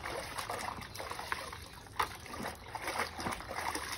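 Helmets are rinsed and dunked in water, giving quiet trickling and dribbling with a few soft splashes scattered through, the loudest near the middle, in a calm setting.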